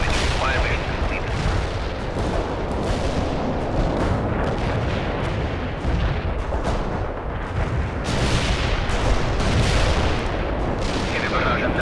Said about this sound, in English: Heavy barrage annihilated the enemy at coordinates.